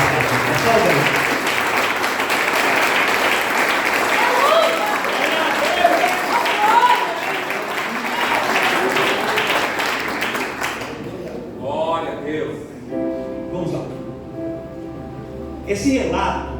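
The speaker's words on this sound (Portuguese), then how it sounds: "com as mãos livres, dá uma salva de palmas ao Senhor" A church congregation claps in sustained applause for about ten seconds, then it fades and a voice speaks over the quieter room.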